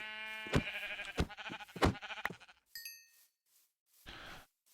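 Several short sheep bleats from the Minecraft video game come in quick succession, loud and close, followed by a brief chime-like ding and one more bleat after a pause.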